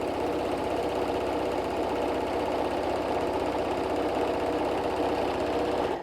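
A sewing machine chain stitching fabric for an eye mask pillow, a steady fast mechanical whir and needle clatter running unbroken and close, alone without talk, stopping abruptly at the end.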